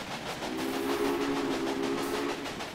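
A steam locomotive whistle in the video game Railway Empire sounds one long, steady, mellow blast over a constant rumbling background, then fades out.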